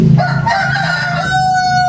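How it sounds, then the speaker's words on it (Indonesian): Free-range village chickens of the KUB and BT3 breeds crow loudly and close by, one long rooster call with clucking around it on a small farm with bamboo pens, and no voices. "Ini ada ayam KUB, ayam BT3, ada juga sengkuni"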